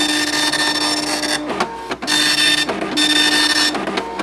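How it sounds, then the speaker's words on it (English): A 24-pin dot matrix printer connected to an Atari Portfolio prints in loud, close bursts of crisp, buzzing head strokes, with brief pauses between lines near 1.5, 2 and 2.8 seconds and no speech. "I really like how this printer sounds. It is a 24 pin and it just sounds so crisp"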